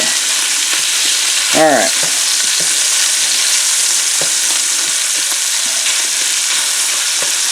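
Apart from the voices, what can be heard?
sausage browning and sizzling in a frying pan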